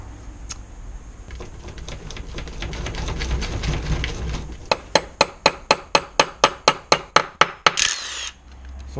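Sharp metallic hammer blows strike a part on an Audi A4 1.8T, first as a quick rapid run of taps, then about a dozen loud evenly spaced strikes up close, with workshop noise underneath.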